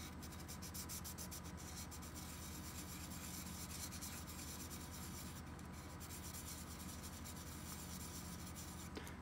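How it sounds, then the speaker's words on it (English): Sandpaper rubbed back and forth over the tip rail of a glass crystal clarinet mouthpiece, giving a faint, continuous rhythmic scratching with quick regular strokes throughout, no voices. "So let me get my sandpaper and feel kind of where the tip rail is."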